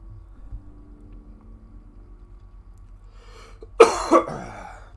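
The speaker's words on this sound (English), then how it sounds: "I apologize for the coughing." A cough bursts out near the microphone during a Skyrim Enderal gameplay session, one harsh hack followed by a second, with quiet game ambience and a low hum underneath.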